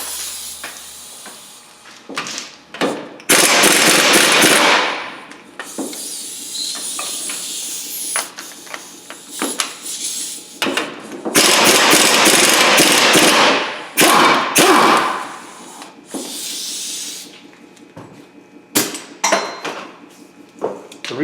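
Brake caliper bolts being broken loose on a 2002-2005 Ford Explorer with a power tool, several loud hissing bursts of a few seconds each between metallic knocks and clatter, close by with no talking.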